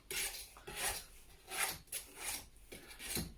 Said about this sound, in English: I'm going to take my same palette knife, I'm just going to sweep it off